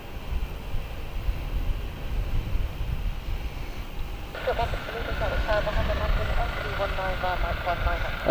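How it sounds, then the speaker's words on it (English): An Emirates Boeing 777-300 takes off at Gatwick Airport, its distant jet roar swelling in about halfway through over steady outdoor wind buffeting and growing louder toward the end. "This is Emirates 12 heading off right now. This is 777-300."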